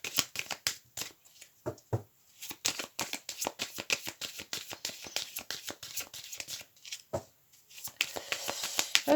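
Tarot cards being shuffled by hand in a long run of quick, crisp riffling flutters with brief pauses, close and fairly loud, with no voices.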